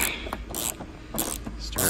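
A ratchet wrench with a 10 mm socket and short extension works a bolt inside a 1997 Volvo 850 cabin, making a few quick, close ratcheting bursts separated by brief pauses.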